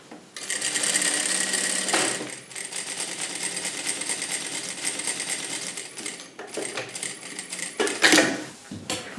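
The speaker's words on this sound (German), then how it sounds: "Dominik näht das seitliche Flankenteil an das Vorderteil." A sewing machine runs in steady bursts as a tailor joins the side panel of a tailcoat to the front panel, outer fabric to outer fabric; the close, continuous whirring pauses briefly then resumes.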